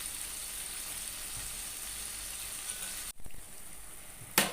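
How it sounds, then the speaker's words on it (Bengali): Beaten sour curd tipped into a hot pan of spiced potatoes with Kashmiri red chilli powder, giving a steady close sizzle that briefly drops as it goes in, then flares again. "দিয়ে দিচ্ছি এবারে ফ্যাটানো টক দই।"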